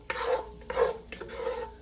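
A wooden spatula stirs gumbo in a cast iron Dutch oven with butter and bacon grease, giving three scraping strokes in a rhythmic series over a soft sizzle.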